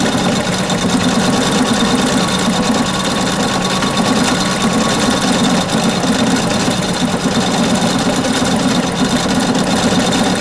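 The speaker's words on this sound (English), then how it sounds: "Now I can just sew." A Husqvarna Sapphire (875 or 835 model) sewing machine runs a programmed stitch pattern, giving a steady, continuous mechanical whir and rapid needle chatter at an even, close volume throughout, with no voices.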